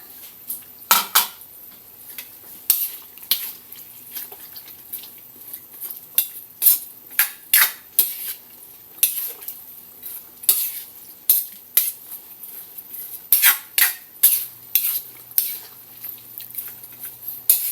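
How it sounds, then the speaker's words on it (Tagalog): A spoon repeatedly scrapes and clanks inside a pot while stirring ginataang kamansi, breadfruit simmered in coconut milk with string beans, giving close, uneven metallic knocks at a steady rhythm. "Haluin natin hanggang ilalim para sumama yung ibang ingredients yung lasa niya"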